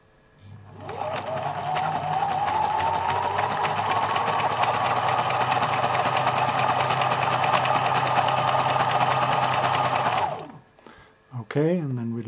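A Husqvarna Viking 2000 sewing machine stitches heavy thread through thick fabric, running steadily for about ten seconds with a fast whirring motor and rapid needle clatter, then stopping before a brief voice speaks.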